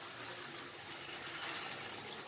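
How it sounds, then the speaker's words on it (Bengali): Hot water poured into a cooking pot of goat meat curry, a faint steady splashing pour lasting throughout, no voices. "এবারে এর মধ্যে জল দিয়ে দেবো"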